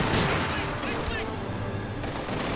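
Soviet light machine gun fire in the video game Company of Heroes 2, dense gunfire and battle noise filling the moment, with a caster's voice over it.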